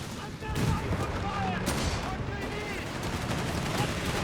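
Dense battlefield gunfire from a .30 cal machine gun in Company of Heroes 3, continuous rattling bursts mixed with explosions and general combat noise throughout, with a commentator talking over it.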